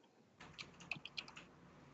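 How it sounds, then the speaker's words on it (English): A burst of clicks on a computer keyboard, quiet and close, lasting about a second before fading to near silence. "Keyboard."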